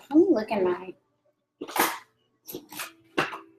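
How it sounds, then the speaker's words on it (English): A pet cat lying beside a person gives a short, sharp sneeze, then a couple of quieter snorts, heard close up between bits of a woman's speech. "That was a cat sneeze"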